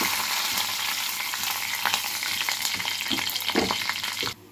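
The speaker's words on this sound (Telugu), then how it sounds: "ఇప్పుడు చూసారా, బుసబుసా అని సౌండ్ రావాలి ప్రేమకి, పప్పు తాలింపులకి." Spices and curry leaves tempering in hot oil for a dal, with dried red chillies, shallots and a pinch of asafoetida, giving a steady close crackling sizzle with sharp pops throughout before it cuts off abruptly near the end.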